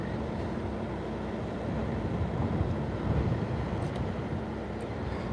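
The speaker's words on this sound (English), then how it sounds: "It's getting pretty windy though." Steady, heavy wind from Tropical Storm Marco buffeting the microphone in Grand Isle, Louisiana, a continuous low roar that swells slightly midway, with no voices.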